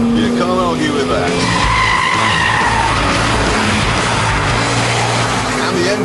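A Porsche Cayman S slides sideways under power, its tires squealing loudly and continuously over a strong engine roar.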